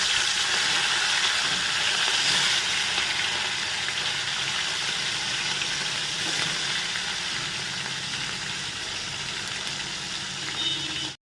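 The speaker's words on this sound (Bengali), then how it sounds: "তো একে একে এবার মাছগুলো ভেজে নেবে।" Fish fry in very hot oil in a wok, giving a dense, continuous loud sizzle and hiss that holds evenly for over ten seconds before cutting off abruptly, with no voices.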